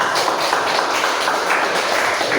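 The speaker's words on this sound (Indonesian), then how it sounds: "Aplaus dulu untuk teman kita." Students applauding a classmate in a classroom, a dense unbroken wash of hand claps that stays loud and even throughout.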